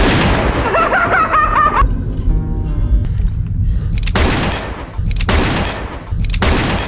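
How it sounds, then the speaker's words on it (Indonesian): Gunfire during shooting practice in a film scene: loud, dense bursts of rapid shots, then a quieter stretch with tonal background music, followed by further sharp volleys. "Marmalade juga melatih Baron cara untuk menembakkan senjata"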